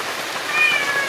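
A small black cat gives a faint, thin meow during a rainy caravan trip, and steady rain hiss runs underneath it.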